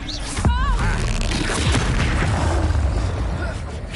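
A Confringo blasting spell exploding in Hogwarts Legacy, a sharp boom followed by rumbling blasts and pops in a noisy fight, loud and close, with voices speaking amid it.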